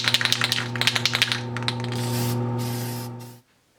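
Clear coat sprays in a steady, close hiss over a Rapido BC Rail C40-8M model locomotive for nearly two seconds, after a run of light ticking taps, all over a constant low mechanical hum.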